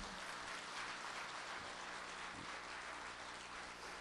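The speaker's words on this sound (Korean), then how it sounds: "또 한번 박수 한번 주십시오" Audience applause at a Korean book concert hall event, a steady dense wash of clapping that holds evenly throughout at a moderate distance, with no voices over it.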